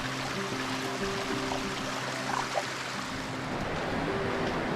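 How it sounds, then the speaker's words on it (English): A mountain stream flows steadily beside a hiking trail among moss-covered boulders, giving a continuous broadband rush of water that stays even throughout, with a faint low hum underneath. "Listen to the water."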